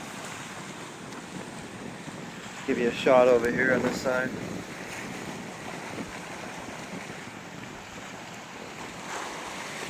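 Stormy surf crashing against a rocky shoreline in Canada under heavy clouds, a steady roar of wind and waves throughout, with someone talking briefly near the microphone partway through.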